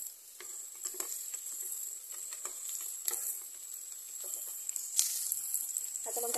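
Onions and green chillies fry in a home kitchen pan, a steady bright sizzle running throughout with scattered clicks and scrapes of stirring, close and moderately loud, with no talking.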